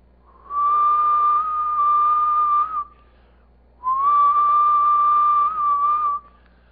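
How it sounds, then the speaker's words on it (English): Two long whistles held at one steady pitch, each about two seconds, separated by a short silence, clear and close. "I could perhaps whistle at a particular pitch if I can do it."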